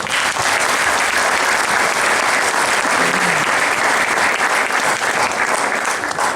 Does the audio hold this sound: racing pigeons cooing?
no